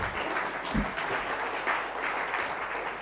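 Crowd applause at a London event on developing and investing in the built environment: thick, continuous clapping from a sizeable audience, steady and moderately loud throughout, with a few louder bumps and no voices.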